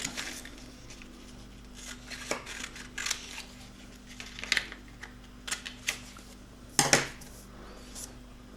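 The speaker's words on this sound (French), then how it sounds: "Pour faire ma voile, je découpe mon petit bout de papier." Scissors snipping a small piece of paper to make a little sail for a craft boat, a series of sharp, scattered close cuts and rustles at an irregular pace, fairly quiet, with no talking.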